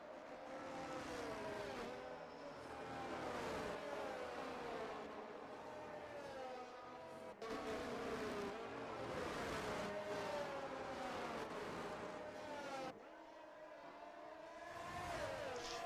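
F1 2023 race cars at Spa in a video game, with engines revving and wailing as they rise and fall through gear changes, a continuous loud roar with cars passing in waves.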